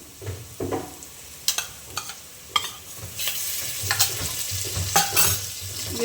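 Ginger garlic paste frying with onions for a green gram gravy: a low sizzle close by, broken by sharp spoon scrapes and stirring clatter, no talk.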